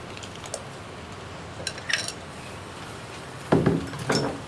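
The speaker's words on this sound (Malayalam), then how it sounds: "തൈര് ചേർത്തിട്ടൊന്ന് ഇളക്കി മിക്സ് ചെയ്യുക." Blended curd is stirred into a Kerala pumpkin moru curry in a pan with the flame off: a few light spoon clinks and taps against the pan, then louder scraping stirs near the end.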